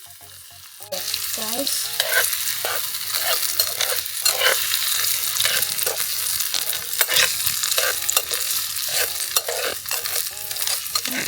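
Tomatoes fry in hot oil in a tiny mini kitchen, a loud continuous sizzle that starts abruptly, with soft rhythmic scraping of stirring running through it and a brief word spoken near the start.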